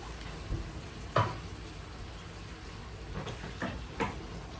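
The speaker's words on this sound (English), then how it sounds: "And I'm gonna let it cook" Chopped tinned tomatoes simmering and reducing in a pan for Spanish flamenca eggs, a soft steady bubbling sizzle with a few faint clinks and stirring knocks, fairly quiet and without talk.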